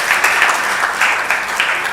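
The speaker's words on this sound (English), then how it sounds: "it is a great innovation, and we should clap for noting it" A conference audience at the WACREN 2023 event breaks into brief, dense applause, a steady wash of clapping at moderate loudness.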